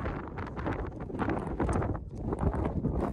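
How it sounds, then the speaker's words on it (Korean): Biting wind buffets across the Janggunbong summit of Taebaeksan in winter snow, a loud rough roar with gusty surges that swell and dip over a few seconds, with no voices. "바람소리 들리시죠?"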